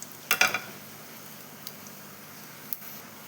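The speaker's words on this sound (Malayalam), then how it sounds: "വറ്റൽ മുളക് ഇട്ട് കൊടുക്കട്ടെ." Dried red chillies drop into hot oil for a chutney tempering, setting off a brief burst of crackling sizzle near the start, then a quiet simmer broken by a few isolated pops, close up and without talk.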